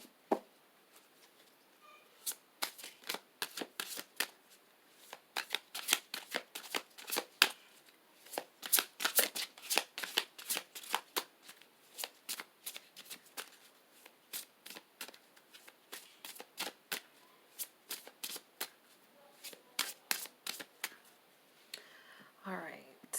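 A Dark Mirror Oracle card deck is shuffled close by, with rapid, crisp riffling flutters that come in repeated bursts for over twenty seconds, plus a soft voice in the background.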